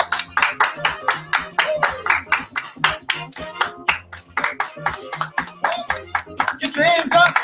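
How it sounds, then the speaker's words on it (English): Children clap their hands in a steady rhythmic beat along with music at a kids' club gathering, sharp close claps repeating evenly under singing voices. "Everybody, clap your hands."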